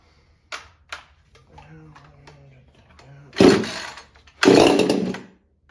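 A Husqvarna 350 chainsaw fitted with a 372XP carburetor sputters, then revs loudly in two strong bursts up close, after a few faint clicks and a low pull-start rumble.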